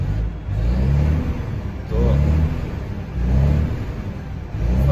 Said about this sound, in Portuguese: fazendo um arzinho no caminhão aqui, esquentando ele um pouco